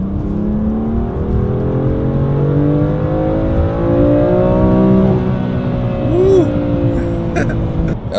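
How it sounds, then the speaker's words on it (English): A BMW F87 M2 Competition driving with engine revs rising and falling, including a quick blipped rev-matched downshift, heard from inside the car over road noise, with brief speech near the end. "We do the downshift. This has rev match downshift automatically."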